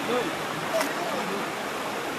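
Spring water flowing into a river, a steady broadband rush filling the short stretch, with faint brief whistles over it and no clear speech.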